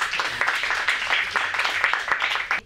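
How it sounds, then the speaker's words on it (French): A television studio audience claps continuously for the evening's panel of columnists, brisk, dense applause at moderate level with no voices over it. "que je vous demande d'applaudir"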